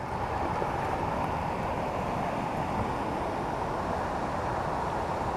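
Waterfall beside a hiking trail on the Great Divide Trail near Cataract Pass in the White Goat Wilderness, a steady, broadband roar of rushing water with no breaks, loud and close, with no voices.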